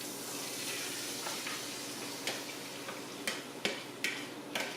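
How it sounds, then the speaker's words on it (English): Garlic and sausage sizzle in a pan, a steady close hiss of frying with a few sharp ticks and pops toward the end. "after you have let the garlic sizzle for about 2 minutes, you're then going to go ahead and add your sausage mixture."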